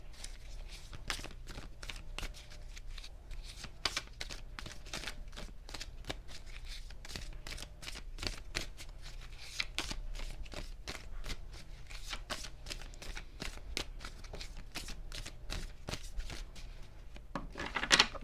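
Tarot cards are shuffled by hand in a long run of rapid, crisp riffling clicks and slaps, close and fairly quiet, with no talking.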